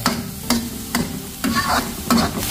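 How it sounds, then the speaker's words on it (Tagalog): Food sautéing in oil in a pan to remove a fishy smell, with steady sizzling broken by several sharp stirring scrapes at regular intervals, close and alone. "Kaya ngayon, igigisa muna natin para mawala yung lansa bago natin sabawan."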